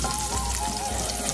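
Garlic sizzles in hot oil as it fries to a golden brown, a steady close frying hiss with no talk over it.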